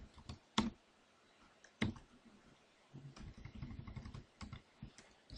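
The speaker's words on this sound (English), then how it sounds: "So I'm going to type that in." Number keys tapped on a computer keyboard at close range: a few isolated clicks, a pause, then a quicker cluster of soft keystrokes, faint and without voices.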